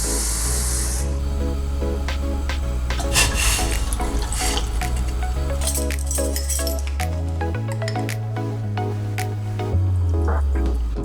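Water runs and pours steadily into vinegar to dilute a brine for pickled jalapeños, the pitch gradually shifting as the container fills, plus small clinks and drips nearby.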